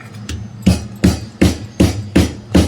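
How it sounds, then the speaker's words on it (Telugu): Cardamom pods pounded by hand for flavouring semiya payasam in a village kitchen, six sharp, evenly spaced thuds, close and loud, with no talk. "ఇక్కడ 4 ఇలాచీలు తీసుకుంది ఫ్లేవర్ కోసము దంచేయడానికి"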